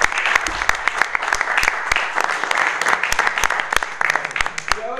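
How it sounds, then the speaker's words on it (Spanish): A crowd at a municipal award ceremony for a girls' hockey team bursts into lively applause, with sharp individual claps standing out near the microphone and voices mixed in underneath. "Muy bien, aplausos."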